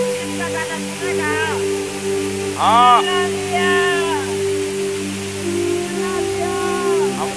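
A waterfall pours continuously as a broad, steady rush of falling water, with a person talking over it and a brief rising, whistle-like tone partway through.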